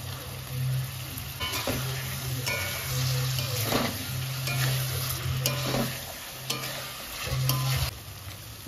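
Pointed gourd frying with Kashmiri chili powder and spices, a continuous sizzle with repeated scraping stirs of a spatula against the pan and a low hum beneath.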